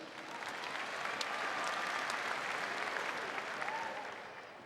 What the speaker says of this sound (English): Can you give her a big round of applause?